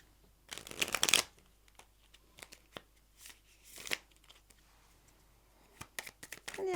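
A deck of tarot cards is riffled and shuffled close by in a few quick bursts of flapping and snapping, with quieter taps and rustles between.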